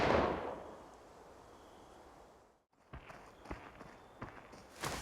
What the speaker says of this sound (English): I thought I heard footsteps right there.